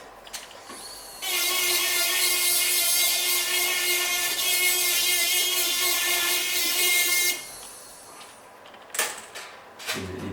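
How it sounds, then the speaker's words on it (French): A high-pitched whining rotary tool grinds a metal alloy for a metal tooth, running steadily for several seconds before stopping, followed by brief clattering and handling noises. "je vais gratter mon alliage"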